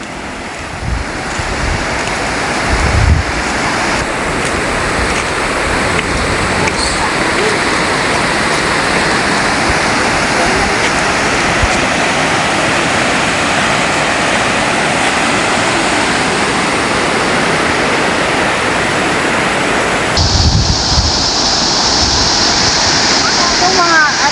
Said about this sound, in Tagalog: malakas ang agos ng ilog